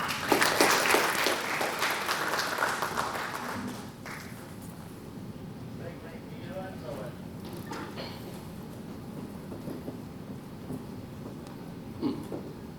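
Audience applause at the ACEF 2019 Clean Energy Day welcoming Dr. Amory Lovins, a crowd clapping loudly for several seconds and then thinning into scattered claps, shuffling and faint voices in a large hall.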